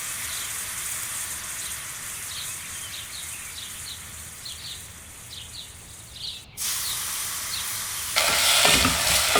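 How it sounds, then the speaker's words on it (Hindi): Almonds fry briefly in a pan with a soft, steady sizzle, light ticks and faint scraping. The sound grows louder near the end into a brighter, stronger hiss. "अब बादाम डालें और 30 सेकंड तक फ्राई करें"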